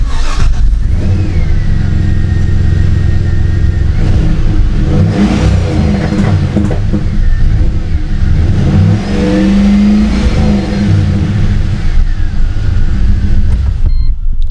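A cold Pontiac GTO V8 engine revs hard and steadily, loud and close, rising and falling through several throttle blips with no talk over it.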